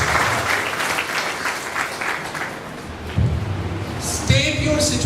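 An audience at a communication skills session breaks into dense, continuous applause, loud and close, with a few sharper bursts toward the end.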